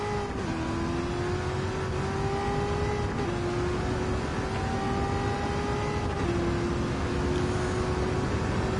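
A race car engine in Gran Turismo 7 holds a loud, steady high drone as it accelerates, with pitch climbing gradually through two gear changes and nothing else over it.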